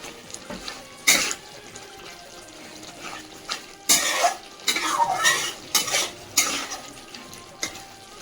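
Salt and turmeric get stirred into rui fish kalia, a spoon scraping and clanking against the pan in several distinct bursts over a faint sizzle of cooking masala.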